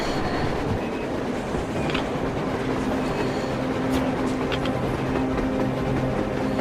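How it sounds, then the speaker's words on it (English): A train in the video game Metro Exodus rumbles steadily past on the surface, a continuous rolling roar of wheels on rails with faint squeals, fairly close and without voices. "A train! A damn train on the surface!"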